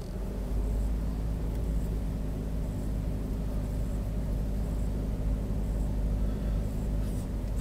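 A car creeps forward very slowly on light throttle during a driving lesson, giving a steady, close, low engine rumble with a constant hum and no change in pace throughout.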